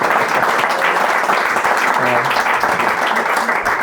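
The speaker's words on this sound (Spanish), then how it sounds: "denle primero un fuerte aplauso" An audience at a literary magazine presentation applauds, a dense, steady wash of clapping from many hands, loud and continuous from start to finish.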